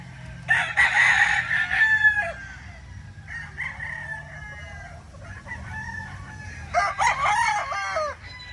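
A rooster crows loudly nearby, two long strained crows separated by a few seconds of quieter calling and background clucks.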